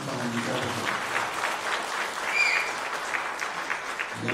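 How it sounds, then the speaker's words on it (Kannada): An audience at a Kannada film release event claps in continuous, lively applause from a crowd of many hands. A voice murmurs faintly underneath. "ಎಲ್ಲರೂ ಒಂದು ಬಾರಿ ಚಪ್ಪಾಳೆ ಬಿಡಬೇಕು"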